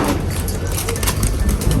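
Breeder pigeons coo close by in soft repeated bursts while chasing each other, with wing flutters and some background noise mixed in.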